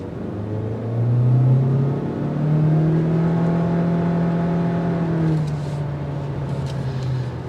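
A 2023 Honda Accord EX with its 192 hp turbocharged four-cylinder accelerating hard from a red light in S mode, a low droning engine rising in pitch through smooth gear steps, heard from inside the cabin, steady and fairly loud with no talk.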